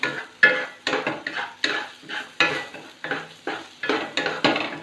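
A utensil stirs eggs and keema briskly in a pan, a steady rhythm of loud scraping strokes, each one sharp and then fading, with no one talking.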